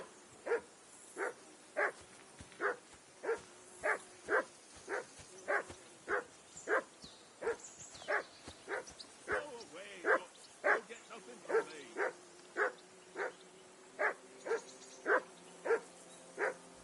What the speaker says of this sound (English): Henry! Call off that damn dog before he wolfs down the last of our meat.